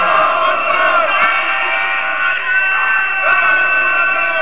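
Large crowd at a naat gathering roaring in unison with a sustained, loud collective shout of the religious slogan Allah, voices swelling and holding with a brief dip before rising again.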